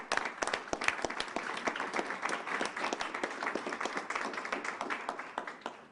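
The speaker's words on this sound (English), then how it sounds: "So let's give a round of applause for Cecilia." An audience at a Pennsylvania lawmakers' funding announcement gives sustained, dense applause for a speaker. The many overlapping hand claps sound fairly soft and continuous throughout.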